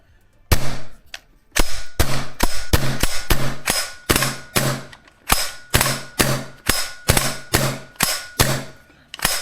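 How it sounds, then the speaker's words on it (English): A Lambda Defense GHM-9-G gas blowback airsoft SMG has its bolt cycled by hand over and over, giving roughly fifteen sharp metallic clacks in a steady rhythm, loud and close with no talking. "you need to work the bolt in"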